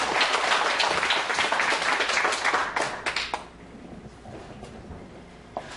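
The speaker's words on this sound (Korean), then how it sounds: "우리 목사님을 박수로 환영하겠습니다" A church congregation at a Friday prayer meeting claps to welcome a visiting pastor, the loud group applause thinning and fading out midway, leaving a few scattered claps.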